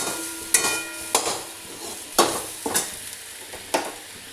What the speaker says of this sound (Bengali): এবারে টমেটোটা একটু ভেজে নিয়ে